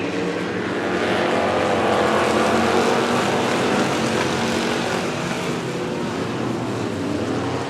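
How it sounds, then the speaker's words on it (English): Street stock race cars roar past at Coos Bay Speedway, a loud, steady engine drone that swells and fades slightly as the pack goes by. "There's the race leaders gone by again"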